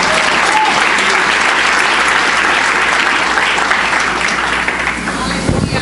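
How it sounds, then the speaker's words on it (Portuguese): Congregation applauding during a church service, loud, dense and steady clapping filling the room for several seconds, with faint voices mixed underneath. "Você pode aplaudir ao Senhor"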